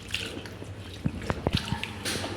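Biryani rice is washed gently by hand in water, with soft sloshing, a few drips and wet squishes, close and quiet, with no voices.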